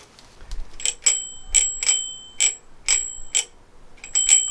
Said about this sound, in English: Bell's broken.